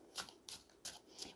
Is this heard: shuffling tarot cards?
yes